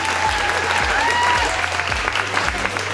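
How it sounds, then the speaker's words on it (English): An audience at a plant swap applauds steadily for a few seconds, a dense, continuous patter of clapping hands with no voices standing out. "Let's give a round of applause for Amelia and Layla."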